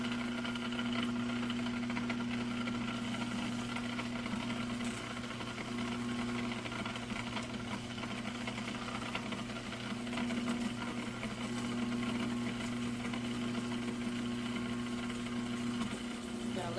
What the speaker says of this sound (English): I can still kind of hear that garlic moving around in there, so I'm going to wait until that's really finely blended up.